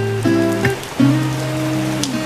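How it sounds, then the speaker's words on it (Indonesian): Heavy rain pouring down as a constant hiss beneath sustained tonal music notes that shift pitch a few times over a couple of seconds. "hujannya gede banget Adika"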